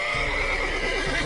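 A loud horse neigh from the video game The Witcher 3: Wild Hunt, a sustained whinny lasting about a second, close and prominent.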